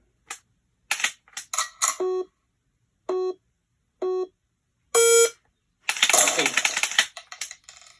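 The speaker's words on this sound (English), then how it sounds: "So obviously I pull the trigger 6 times, and it only recognized one shot" An AR15 trigger dry-fired repeatedly in a garage gives several sharp, close mechanical clicks spread across the clip, mixed with clean electronic beeps from a laser training system and a burst of rougher noise near the end.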